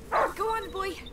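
A dog in the video game A Plague Tale: Innocence gives a short bark followed by a whiny, yelping vocal tail, close and clear, lasting about a second.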